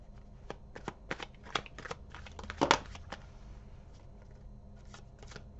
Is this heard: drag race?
no